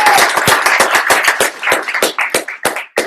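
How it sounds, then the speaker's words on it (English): A graduation audience applauds, a burst of sharp, close claps in uneven rhythm that fades out over a few seconds. "You can clap."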